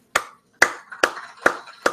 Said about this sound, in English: why are you clapping? I'm clapping because I'm in my mind.